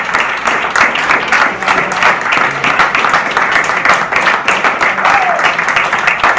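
Award winners at a banquet get steady, dense applause with cheering from a large crowd, filling the room loudly and evenly without a break.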